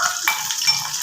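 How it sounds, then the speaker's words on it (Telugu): Pieces of food frying in a pan, a close steady sizzle with a brief stirring scrape partway through. "కొంచెం ఫ్రై అవ్వాలి."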